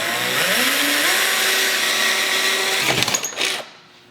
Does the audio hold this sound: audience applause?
no